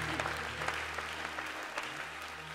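A church congregation applauding together during a worship service, a dense, steady wash of clapping heard close, with no break for the whole stretch.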